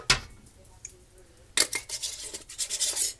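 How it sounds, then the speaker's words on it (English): Glass canning jars of roast beef hash are set into a canner, giving a sharp clink at the start and then a run of scraping, rattling glass-and-metal knocks close by, with no talking. "Going to put them in our canner."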